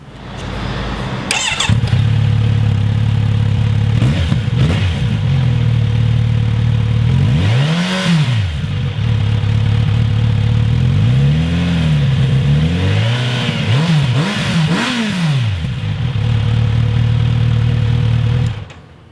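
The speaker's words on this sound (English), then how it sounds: "Here's what the Z900RS sounds like." A Kawasaki Z900RS motorcycle starts and settles into a loud, close idle, then revs up sharply several times, each blip climbing and falling back to a rumbling idle.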